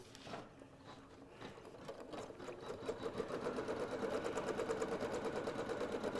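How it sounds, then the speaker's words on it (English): A sewing machine stitches an appliqué Christmas ornament, its rapid even needle rhythm starting softly and building into a steady mechanical chatter, heard alone and close. "And I can press start. Just do a couple stitches and then cut that longer thread and go."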